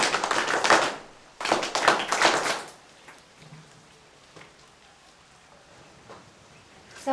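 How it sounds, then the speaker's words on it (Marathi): A classroom of students claps in two short bursts of brisk, fairly close hand claps, followed by a quiet room. "आदित्यसाठी 3 टाळ्या वाजवा"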